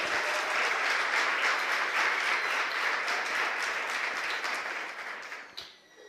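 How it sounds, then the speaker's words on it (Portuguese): Sustained applause from a church congregation during a sermon, dense clapping from many hands that holds steady for most of the stretch before thinning and fading near the end. "Você pode aplaudir o nome do Deus eterno"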